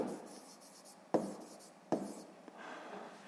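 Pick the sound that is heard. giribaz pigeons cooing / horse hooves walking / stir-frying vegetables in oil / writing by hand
writing by hand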